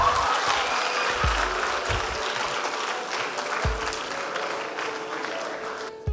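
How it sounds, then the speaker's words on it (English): Audience applause at a debate championship grand finale and awards ceremony, a sustained, fairly loud wash of clapping with a few low thumps, tapering slightly toward the end. "I give us 2 seconds to clap once again."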